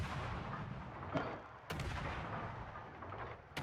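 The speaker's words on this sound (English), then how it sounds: "Guns go to work again, angling the ship to be able to get all 4 of those gun barrels, throwing HE shells down range." Warship main guns in a naval video game fire high-explosive shells downrange, booming in a few heavy, spaced salvos over a low rumbling background.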